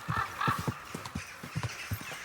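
Horse hooves clip-clop in a quick rhythm, close and fairly loud, in the medieval video game Kingdom Come: Deliverance, with snorting and neighing mixed in.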